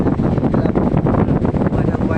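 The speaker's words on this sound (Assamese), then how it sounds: "দেখিছে কি বতাহ" Strong storm wind roars steadily around a rural home during monsoon rain, rushing and buffeting close to the microphone without a break throughout.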